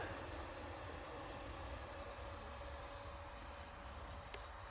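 A Freewing 90mm F-16 V2 RC jet on a 6s setup flies overhead, its ducted-fan engine a steady whining roar with a thin tonal whistle, continuous and fairly loud against the open outdoor air.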